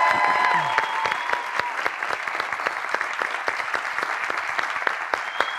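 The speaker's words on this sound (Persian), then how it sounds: "یه تشویق خیلی جانانه به افتخار جناب خان" A studio audience gives warm applause on a comedy talk show, a dense, steady patter of many clapping hands that fades slightly over several seconds, with faint voices underneath.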